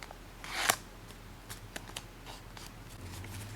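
Origami paper is creased and folded into a modular hexagon box lid: one sharper crackle, then faint scattered papery rustles and taps, close and quiet.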